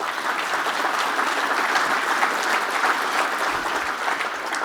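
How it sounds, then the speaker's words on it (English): Steady, loud applause from a large audience at the 2023 State Budget Lunch at the Press Club. The clapping fills the whole stretch without a break. "So a round of applause for them."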